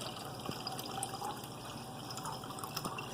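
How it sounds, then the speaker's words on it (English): Slightly warm tap water runs from a faucet into a container holding honey for a wild yeast starter, a steady close splashing trickle with a few drips and no voices. "a little bit of water right out of the tap"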